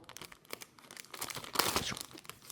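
Plastic wrapping on a Shooting Star Catch! Tiniping collection card pack is torn open with a crinkly, ripping rustle that builds to a louder tear near the middle.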